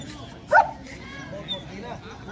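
A German Shepherd dog gives one short bark at an outdoor dog show, with a faint second yelp later, heard amid crowd murmur and people talking nearby.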